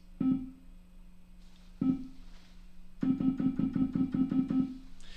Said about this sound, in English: Zero release sounds like this.